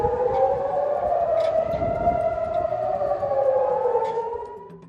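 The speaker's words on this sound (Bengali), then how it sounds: "গোষ্ঠীটির হামলার কারণে ইসরায়েল জুড়ে সাইরেন বেজে উঠেছে।" Air raid sirens sound across Israel during a missile attack, a loud sustained civil-defense wail with slowly shifting pitch and layered overlapping tones, fading slightly at the end.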